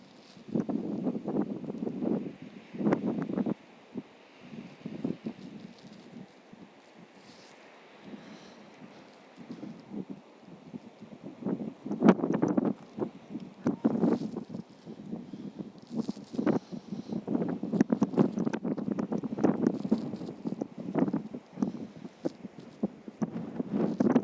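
Gusty, cold wind on a high seashore bluff at Anapa buffets the microphone in irregular surges, rumbling low and loud, rising and easing over a long stretch with no voices.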